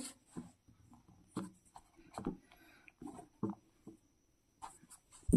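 Writing on a board during a Class 8 maths lesson: irregular scratchy strokes and taps in short bursts with pauses between them, close and fairly quiet, with no speech.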